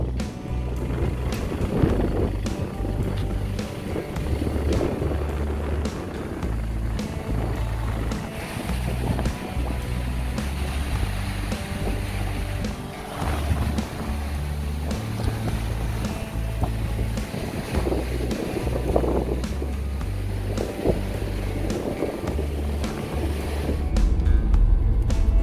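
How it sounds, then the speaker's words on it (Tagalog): Strong wind at the seaside by a breakwater in Lobo, Batangas, buffeting loudly and continuously with a deep roar and rumble, along with the wash of waves, for the whole stretch with no talk. "Ang lakas ng hangin!"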